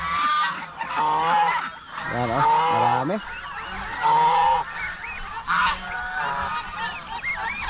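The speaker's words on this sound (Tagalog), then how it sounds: "Gansa ang ating pakainin dito." Geese honking loudly and repeatedly at close range on a backyard farm at feeding time, overlapping nasal calls in irregular bursts, with a person talking briefly among them.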